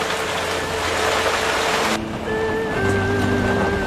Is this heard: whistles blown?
no